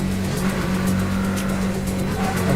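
Car engine in the video game NTE, a steady loud drone with a low hum holding through, faint tire and wind hiss above, no voices.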